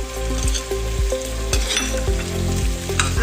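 Fish pieces fry loudly in a pan with red chilli sauce and soy sauce, a dense sizzle broken by regular scraping and clinking of a spatula stirring against the metal.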